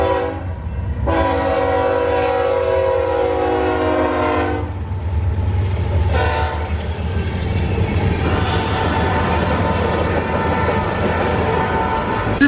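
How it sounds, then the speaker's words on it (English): Eastbound grain train hauled by two GE GEVO locomotives in Emporia, Kansas passes with loud rumbling, two long air horn blasts and a shorter third blast, then steady close rolling noise. "Next up, we see an eastbound grain train with 2 GEVOs for power."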